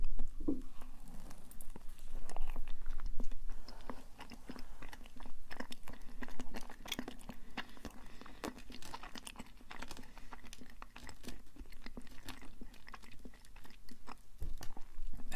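A chocolate donut is chewed close to the mic in an ASMR mukbang, with soft, irregular squishy bites and mouth sounds running steadily throughout, no talking.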